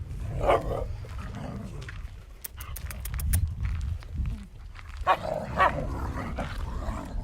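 A Karabash dog growls low and then barks several times in short bursts, moderately close, with faint background noise between.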